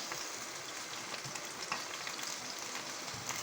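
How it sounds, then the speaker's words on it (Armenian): Cream poured into a pan of frying potatoes and vegetables gives a steady, close hiss and sizzle of hot food cooking, with no talk. "Մեր ովինը սերը լցնում ենք, ավելացնում ենք գնացած մանջարեղեններին,"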